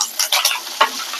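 Five small chopped garlic cloves sauté in hot oil with curry leaves, a close, crackling sizzle broken by quick scraping stirs.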